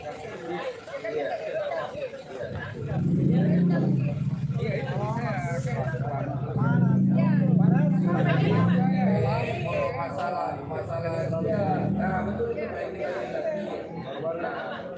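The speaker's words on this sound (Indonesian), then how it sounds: "Ribut suara mobil tuh." A low engine rumble from a nearby vehicle swells and fades repeatedly beneath people chatting.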